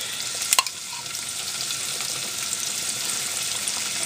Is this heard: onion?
yes